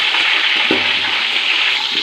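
Small onions sizzle steadily in a hot pan for bisi bele bath, a continuous loud frying hiss with a few faint stirring knocks underneath.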